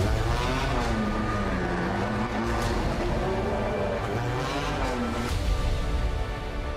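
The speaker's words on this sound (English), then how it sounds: "My favorite sound when the car is leaving the pits." A DTM race car pulls out of the pits at Hockenheim, its engine note rising and falling through gear changes, loud and fairly close, with a continuous mechanical roar under the pitch sweeps.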